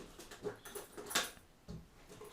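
Dobby the dog gives a few soft, brief whimpers and small sounds up close, with faint patter between them and no talking.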